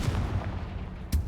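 A Confringo fire spell cast in the Hogwarts Legacy video game: a low, continuous rumble that breaks into one sharp, loud, booming blast near the end, like artillery fire, with no voices.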